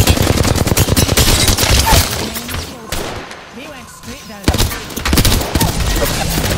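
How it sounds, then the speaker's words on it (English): Loud shotgun blasts and rapid gunfire from a firefight in the video game Apex Legends come in dense bursts, ease off briefly in the middle, then return with heavy impacts under a player's voice. "Fucking shotgun"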